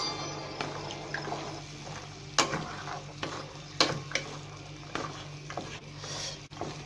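A chickpea curry with tomatoes, onion and spices is stirred in a pot over low heat. A spoon scrapes and knocks in sharp clicks over a soft, even simmer.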